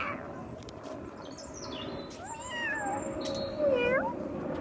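A cat meows in a few rising and falling calls over faint background noise, with no talking.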